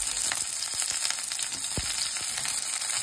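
Garlic and onion sizzle steadily in a hot pan, a dense continuous frying hiss with scattered pops and a brief scrape of stirring, close and alone without talk.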